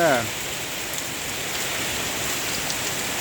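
Steady heavy rain pours down on a durian orchard in Ban Kruat, Buriram, Thailand, in a dense, even hiss, with a brief voice cut off at the very start.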